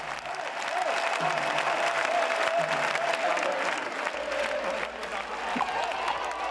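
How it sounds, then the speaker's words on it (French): A large crowd in the cathedral square of a Menorca festival parade breaks into loud, sustained applause, a dense wash of clapping that holds steady throughout with crowd noise mixed in. "Soudain, les applaudissements se déchaînent."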